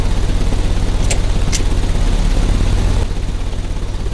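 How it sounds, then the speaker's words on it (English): A machine engine in Sherlock Holmes: Crimes and Punishments runs with a steady, loud, low droning rumble. Two brief sharp clicks sound early, and the drone eases slightly toward the end. "The engine has started."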